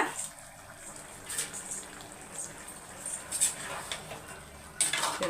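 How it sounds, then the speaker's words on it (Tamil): A spoon stirs rice and water together in a cooking pot for prawn biryani, giving soft, scattered clinks and scrapes against the metal at an irregular pace, fairly quiet and close. "ரைஸை உடையாமல் மிக்ஸ் பண்ணிவிட்டு அப்படியே ரைஸும் தண்ணியும் ஒன்றா வர வரைக்கும் வெயிட் பண்ணிக்கோங்க"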